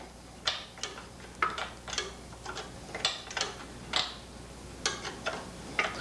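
A nut is loosened off a Porsche 356 engine stud with a ratcheting wrench, giving a quick series of crisp close clicks and ticks in irregular bursts against a quiet background.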